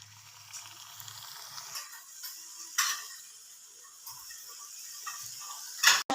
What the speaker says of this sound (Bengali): এবার চিংড়ি পিঠাগুলো তেলের মধ্যে ছেড়ে দেবো।